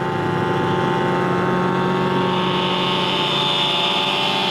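A motorbike engine runs while the rider stands up on it, giving a steady, loud drone with a constant pitch and no pauses or speech.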